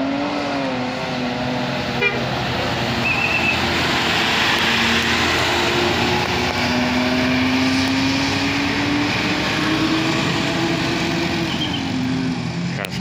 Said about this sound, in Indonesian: Naik lagi nih jet bus 5.